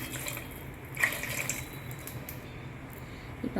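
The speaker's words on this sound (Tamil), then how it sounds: "அப்புறம் இப்போ கொஞ்சம் தண்ணி ஆட் பண்ணிக்கிறேன்." Water is poured into thick strained tamarind extract for vendhaya kuzhambu, a faint splash and trickle with a brief louder gush near the start, then quiet dribbling.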